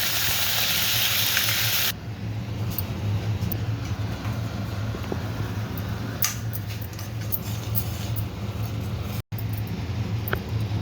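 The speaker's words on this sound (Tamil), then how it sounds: "கொஞ்சம் கடுகு பொரிஞ்சதும் இஞ்சி பூண்டு பேஸ்ட் இதை நல்லா வதக்கணும்" Ginger garlic paste sautés in hot oil after mustard seeds pop, giving a continuous sizzle and hiss with a low hum underneath and a few faint clicks, and no talking.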